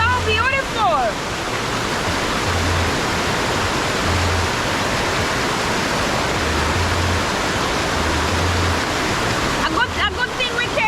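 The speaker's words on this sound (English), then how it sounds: "Water, ocean, waterfall. Ocean, waterfall." Waterfall beside the ocean at Ocho Rios, Jamaica, a loud, steady broadband rush of falling water that fills the whole stretch, with brief voices at the start and end.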